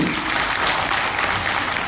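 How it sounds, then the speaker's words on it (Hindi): Audience applause at a business-plan presentation fills the whole stretch, loud and continuous dense clapping from a large crowd, with no speech on top. "तो जोरदार तालियां होनी चाहिए नहीं?"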